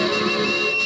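A sustained high whistle held steadily for under a second over a continuous background hum of rumba music playing from vinyl records.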